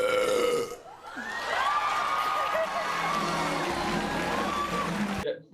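A woman lets out a long, loud, drawn-out burp lasting several seconds with a wavering pitch, alone after a brief moment of other sound.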